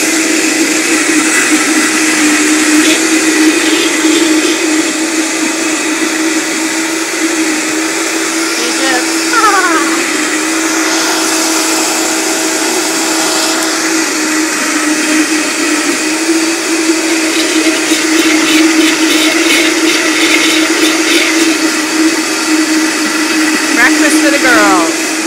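A Vitamix blender runs continuously at full power, with a loud, steady, high-pitched motor whir and churning that lasts throughout, while voices speak over it.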